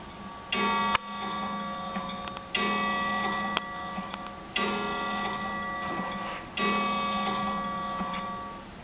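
A clock ticks steadily, with resonant, ringing tones recurring about every two seconds, heard alone with no voices.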